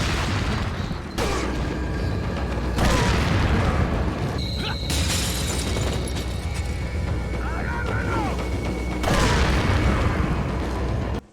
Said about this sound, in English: just wait until you shoot dynamite